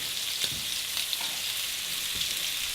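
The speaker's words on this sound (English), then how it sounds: "Now we want to flip our shrimp." Colossal shrimp sizzle steadily on a hot grill, a constant bright crackle with a few soft thumps and scrapes as they are flipped, close up and alone.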